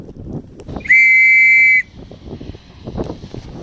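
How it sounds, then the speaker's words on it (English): A single loud, shrill whistle blast calls the ferry across Loch Awe, held for nearly a second against a low outdoor wind rumble. "So they blew the whistle a bit more."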